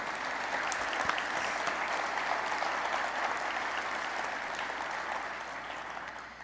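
Applause from a conference audience in San Francisco thanking sponsors: sustained, even clapping from a large hall crowd, fairly distant, that tapers slightly near the end.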